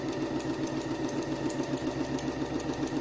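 Sewing machine stitching fabric along a curve, a steady fast mechanical whirring and rhythmic needle clatter running continuously at close range without pause.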